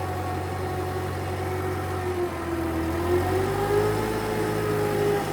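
A tractor engine runs steadily in a field with a low continuous drone and a slowly rising and falling tone, loud and close with no voices.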